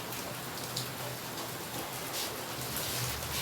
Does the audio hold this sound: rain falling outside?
yes